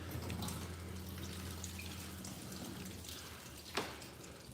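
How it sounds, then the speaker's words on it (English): Water runs and drips off a coated car panel during a water test, a steady low wash with scattered droplet ticks and one brief louder splash near the end, no voices. "And the panel evacuates water."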